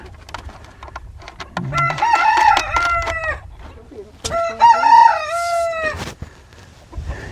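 Chickens cluck and a rooster crows twice on a homestead. The two loud, drawn-out crows come close together, with lower clucking around them.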